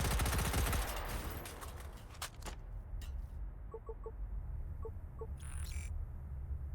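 Full-auto gunfire in a video game opens with a dense, loud burst of rapid shots that fades over the first couple of seconds, followed by a few sharp isolated cracks and faint beeping tones over a steady low hum.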